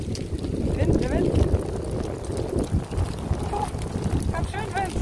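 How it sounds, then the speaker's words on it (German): Strong wind gusts buffet the microphone in a forest near Wuppertal, a loud steady roar with low rumbling that swells and eases, while people talk over it. "Oh, ganz schön Wind!"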